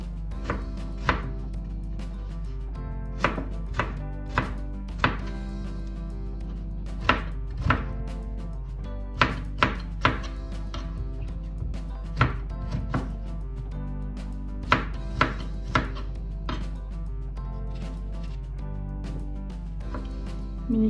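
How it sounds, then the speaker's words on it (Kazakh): Apple is cut into small pieces with a knife, giving repeated close, sharp chopping knocks in irregular bursts over a quiet kitchen background. "Осылай майдалап турап аламыз барлығын."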